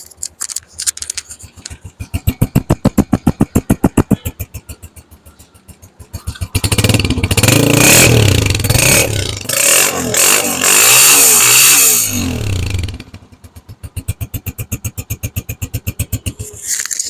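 A Honda 125 motorcycle engine starts with a steady thumping idle, then roars loudly for several seconds before settling back into a rhythmic putter.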